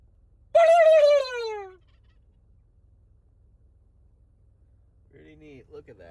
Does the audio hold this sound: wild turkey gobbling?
yes